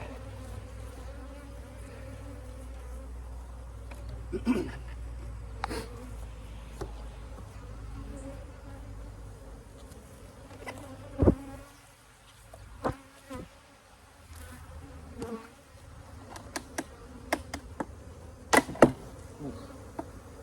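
Honeybees buzz around a jolted hive, a steady close drone of many insects with occasional sharp passes and clicks as individual bees fly near, no voices present.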